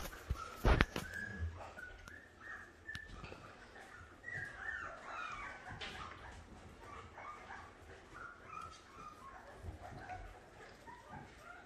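Newborn puppies from a litter whimper and yip faintly, with high, thin, scattered cries over low background rustle and a brief louder knock near the start.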